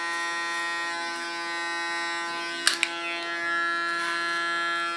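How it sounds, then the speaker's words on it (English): An electric hair clipper cuts hair during a makeover, giving off a steady, close, high-pitched motorized buzz with a brief sharp snag partway through. "Using my clipper as a comb, make a soft connection to the front."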